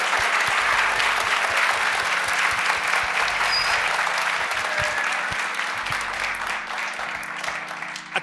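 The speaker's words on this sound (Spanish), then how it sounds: "habrás escuchado unos aplausos" Sustained audience applause filling an auditorium at an anniversary special, a dense wash of many hands clapping steadily for several seconds and tapering slightly toward the end, with no talk over it.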